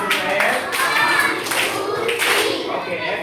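A Grade 2 class of children claps together in a classroom, a few sharp collective claps mixed with excited kids' voices and chatter, close and loud.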